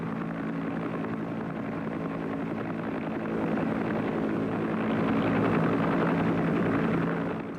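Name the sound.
Huey Cobra helicopter gunship flying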